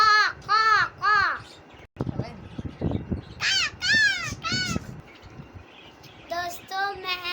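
A voice imitates a crow, giving several bursts of rapid, nasal 'caw' calls separated by pauses, with some rustling and handling noise in between.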